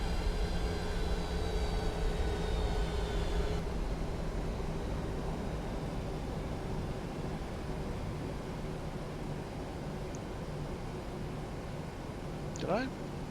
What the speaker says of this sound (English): I love rolling takeoffs.